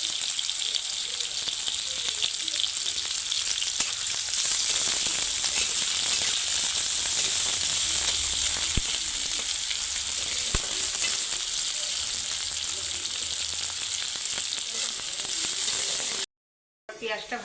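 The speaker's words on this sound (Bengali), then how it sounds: "পেঁয়াজটা একটু লাল হোক, একটু ভেজে নেবো।" Chopped onions fry in a pan for a sweet summer recipe made with drumsticks. They give a steady, dense sizzle throughout, with occasional soft clicks of stirring, and the sound cuts out sharply just before the end.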